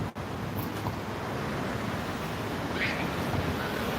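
Rough sea waves off the Malta coast on an evening walk, a dense continuous roar of surf blended with wind rumble, loud and steady throughout.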